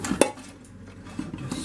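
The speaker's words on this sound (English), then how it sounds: "Let's strain our macaroni now." Cooked macaroni strained from a metal pot: a couple of sharp close clanks of pot and utensil, then quieter scraping and rustling, with no talking.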